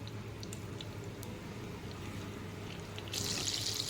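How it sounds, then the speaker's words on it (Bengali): Butter dropped into hot white cooking oil in a pan, a bright sizzle bursting up near the end after a steady low kitchen hum. "আমি সাদা তেলের মধ্যে একটু বাটার দিয়ে নেব"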